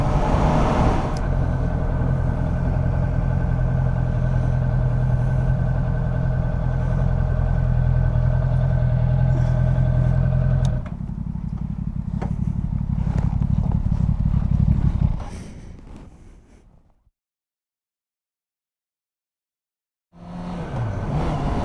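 A motorcycle on a Pennsylvania country road, a loud steady engine drone that swells and then fades away into near silence before another vehicle sound returns at the end.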